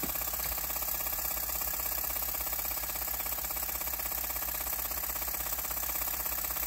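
A twin-cylinder horizontal mill-type steam engine with a flyball governor running steadily, a continuous even mechanical chugging and hum at constant speed, close and unbroken throughout.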